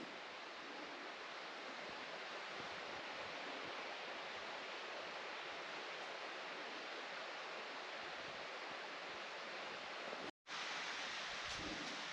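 A creek at night rushes in a steady, dense broadband wash that holds constant for nearly the whole stretch, broken only by a brief dropout near the end.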